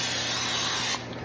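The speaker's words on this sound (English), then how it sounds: "I'm going to spray my hands with cooking spray" A can of no-stick cooking spray gives one continuous hissing burst onto hands in a home kitchen, cutting off abruptly near the end and leaving a faint background hum.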